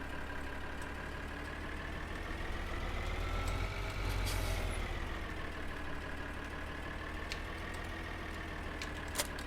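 Tractor engine from the Farming Simulator 2013 video game runs steadily at a constant idle-like drone, close and loud, with no talking over it.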